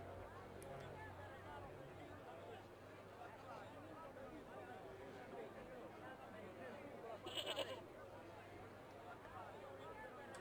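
A goat bleats in the video game Broken Sword: The Smoking Mirror, one short, faint bleat partway through, set against a steady low murmur of ambient game background.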